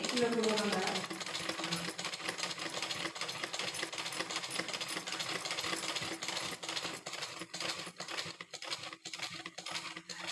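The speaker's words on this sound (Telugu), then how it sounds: "చూడండి రా ఇలా ఒక స్టిచ్ వేయండి" A sewing machine stitching a blouse runs steadily and close, its fast mechanical chatter filling the whole stretch, with a brief voice near the start and a few heavier clacks toward the end.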